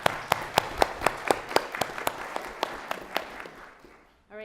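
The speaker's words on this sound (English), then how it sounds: "Please, round of applause." A small group claps in a steady rhythm for a few seconds, the applause thinning out before a voice begins at the end.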